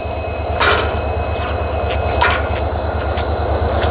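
A train at Gaisal railway station gives a steady, close rumble with a fast repeating low throb, broken by a few short high squeals from the wheels. No one speaks.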